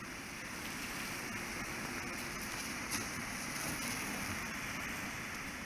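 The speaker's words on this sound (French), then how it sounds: "je commence par arroser mon bord." Water spraying from a hose onto the edge of an outdoor ice rink being maintained, a steady dense hiss like heavy rain that runs unbroken throughout at an even level.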